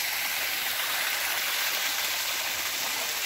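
A waterfall in a tea garden on a highland plateau in Osmaniye roars as a steady, dense hiss of rushing water, loud and close, with no voices over it.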